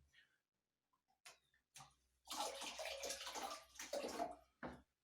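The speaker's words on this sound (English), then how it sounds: "we're going to drain just using a siphon" Water from an old toilet tank runs through a siphon hose into a bucket, starting with a few sputters and gurgles, then settling into a steady close pouring stream that stops briefly and resumes.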